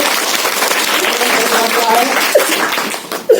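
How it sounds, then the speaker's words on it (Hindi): A studio audience on a children's quiz show applauds loudly and continuously for a correct answer, a thick wash of clapping with a couple of brief louder accents near the end. "बहुत सुंदर जवाब, जोरदार ताली बजा दीजिए।"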